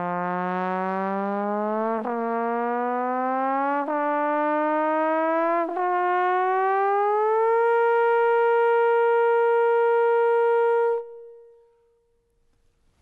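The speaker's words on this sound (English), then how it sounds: "we can also have something called the glissando to help build range" A jazz trombone plays a long glissando, a smooth sustained tone sliding upward in several steps with brief breaks, then holding a high note for a few seconds before stopping.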